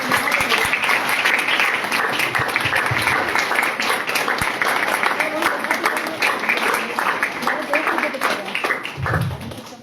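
A church congregation at a Sunday service breaks into loud, sustained applause, dense overlapping claps filling the room close up and continuing steadily throughout.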